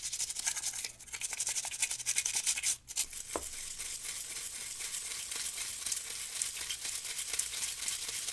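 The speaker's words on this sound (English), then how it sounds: "It's kind of awkward to find the right angle to be able to get in here with a toothbrush and clean" A toothbrush scrubs inside a smoke- and dust-damaged PS4 Slim, giving a steady close hissy rasp that runs almost the whole time, with a brief pause and a small knock partway through.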